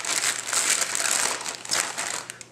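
A pork butt shoved into a 2.5 gallon plastic bag, giving loud close crinkling and rustling of plastic in repeated bursts with brief lulls, no talk over it.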